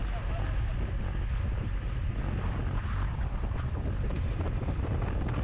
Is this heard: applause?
no